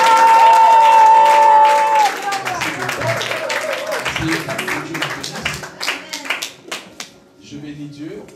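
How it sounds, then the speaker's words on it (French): A church congregation claps and cheers for the Lord, a burst of applause that rises after a sung note and continues in scattered clapping, with voices calling out around it. "Est-ce que nous pouvons acclamer pour le Seigneur?"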